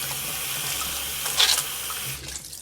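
Tap water running steadily into a sink while a hairbrush is rinsed under it, a continuous close splashing hiss with a brief louder gush midway as the brush passes through the stream.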